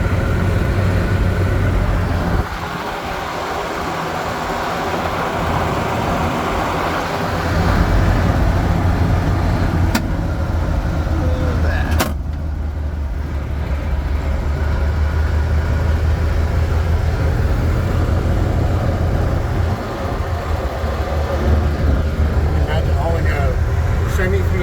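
A 1946 Dodge Fargo truck drives along with a steady low engine rumble and road noise throughout, loud and close, with people talking over it.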